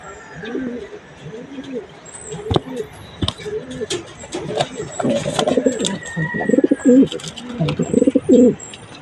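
Pigeons coo in soft repeated throaty phrases inside a loft where chicks have just hatched, the calls growing busier and louder toward the end, mixed with light rustling and thumps.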